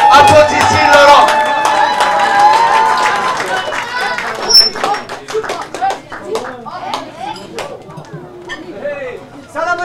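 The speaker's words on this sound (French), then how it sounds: "Applaudissez Laurent." A crowd at an Eid al-Fitr community gathering in Montréal claps and chatters, with dense overlapping hand claps building as the event continues and voices talking throughout.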